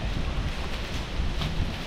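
Steady wind rushes and roars across the microphone beside an azolla pond, a dense, unbroken noise with no voices.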